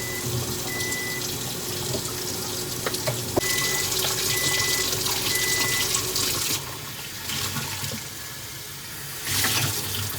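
Tap water running into a sink while a breast pump is washed out, a continuous splashing stream that shifts in tone as the parts move under it, briefly easing before surging again, close by with no talking.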